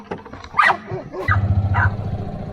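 Several dogs bark and yip close by near a loose pig, in short irregular bursts mixed with whimpering, while a person talks over them.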